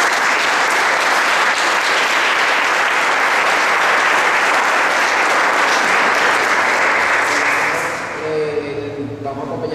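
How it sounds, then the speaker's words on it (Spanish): A concert audience gives a sustained round of applause for a doctor, dense steady clapping that fills most of the span before fading out near the end, with a voice beginning to speak. "Y yo quiero un aplauso para la doctora"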